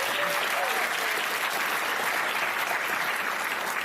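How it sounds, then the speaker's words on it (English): Dense, steady applause from a large live audience at Liberty University fills the space evenly, loud and continuous with no voices rising above it. "Give him a round of applause."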